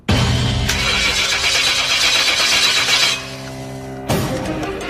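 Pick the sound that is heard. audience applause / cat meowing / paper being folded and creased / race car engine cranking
race car engine cranking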